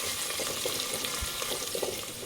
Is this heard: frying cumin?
yes